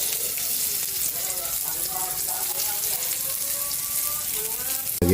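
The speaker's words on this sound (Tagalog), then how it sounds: "Mantika, bawang, lagyan na natin yung sibuyas." Garlic and onion sauté in cooking oil for ginisang ampalaya, giving a loud continuous sizzle close to the pan with bright crackling throughout and a sudden bump right at the end.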